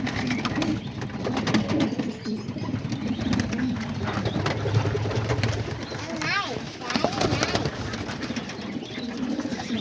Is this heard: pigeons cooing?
yes